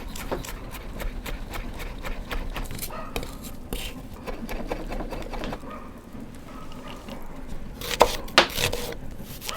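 A knife finely chopping shallots on a board for a steak sauce, with rapid, steady close-up taps running throughout and a few louder knocks near the end.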